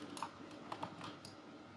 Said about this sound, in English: Press 3 on the keyboard to